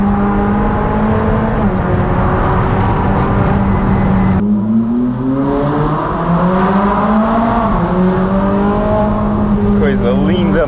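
A cold Ferrari engine runs loud and close, holding a steady droning idle and giving a few gentle, restrained rises and falls in revs.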